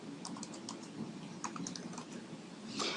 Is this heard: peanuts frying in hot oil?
no